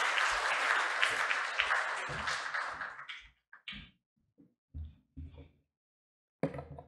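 Seminar audience applause welcoming a speaker, a steady wash of clapping that fades out after about three seconds, followed by a few scattered thumps and knocks in near silence.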